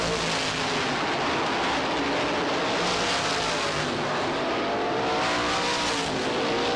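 ISMA supermodified race cars roar around Lee USA Speedway in 1990, a continuous loud engine drone with rising and falling pitch as cars pass through lapped traffic.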